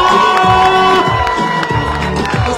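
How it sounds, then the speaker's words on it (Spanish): A large crowd cheers and shouts loudly at a political rally for Carlos Pineda in San José Villanueva, Guatemala, a dense, continuous roar of voices with little distinct clapping. "¡Fuerte el aplauso!"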